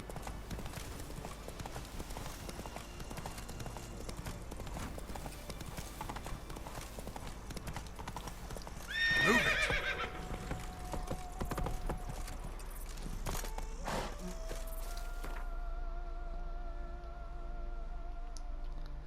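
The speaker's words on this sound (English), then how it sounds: "Ah, my horse is waiting there" Roach, a horse in The Witcher 3, walks with steady, rhythmic clip-clop hoofbeats, followed by a short neigh partway through, while quiet game ambience continues underneath.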